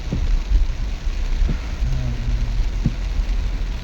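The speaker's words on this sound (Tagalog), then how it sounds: "Ang lakas ng ulan dito guys." Heavy rain drumming on a mini van driving through a dark, flooded road, a steady dense wash with a few sharper drop knocks and a faint low hum underneath.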